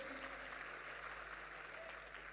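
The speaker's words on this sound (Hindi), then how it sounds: "जोरदार ताली पुलिस वालों के लिए होनी चाहिए" An audience at a comedy show at the Kanpur Dehat Mahotsav applauds with steady, dense clapping from a large crowd.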